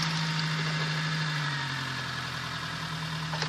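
An old car engine idles steadily nearby with a constant low hum and even running note, holding level and alone throughout.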